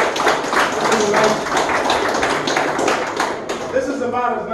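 A crowd at a coonhound show claps steadily for the class of female hounds, a dense, continuous patter of hands with voices mixed in.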